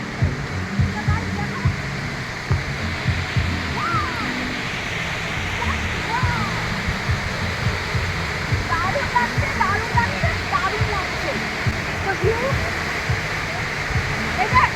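Elephanta Falls in Shillong rushes as a steady, full waterfall roar with splashing texture throughout, and faint chirps and voices sit in the background.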